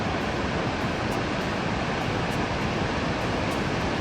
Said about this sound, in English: The rushing water is a beautiful sound